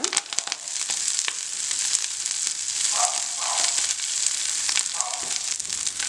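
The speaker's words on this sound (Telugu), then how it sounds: "నేను ఇప్పుడు ఇందులో ఒక అర చెంచా నూనె వేసుకున్నానండి. ఇందులో నేను మెంతికూర అనేది వేసేసుకుంటున్నాను." Fresh fenugreek leaves fry in a little oil in a pan, giving a steady, moderately loud sizzle with faint stirring sounds and a few sharp clicks, no voices.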